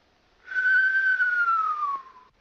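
A single sustained whistling tone about a second and a half long, gently falling in pitch at the end, like the wheeze of an asthmatic woman breathing; close and fairly clear.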